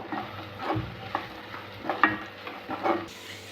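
A spoon scrapes through a cooking mixture in a pan as turmeric and chili powder are mixed in, several soft rhythmic stirring strokes over a faint sizzle, close by with no talking.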